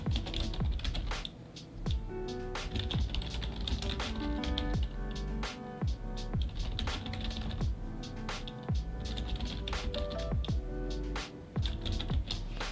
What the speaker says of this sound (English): I intentionally typed in a whole bunch of other stuff